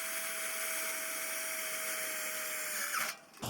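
A power drill drives a self-drilling screw into a rusty metal outdoor stair railing: a steady, close, high whine holds for about three seconds, then cuts off abruptly as the screw seats.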